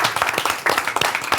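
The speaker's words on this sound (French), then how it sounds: "On l'applaudit parce que ce jeune," A crowd claps for a young tennis player, quick scattered hand claps in a short burst, fairly loud and close.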